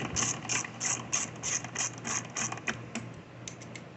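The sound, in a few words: tightening carburetor mounting bolts on Briggs 550ex engine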